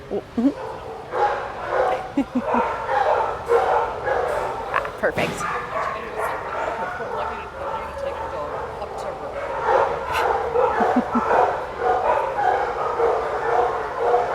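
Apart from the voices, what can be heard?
shelter dogs barking and yipping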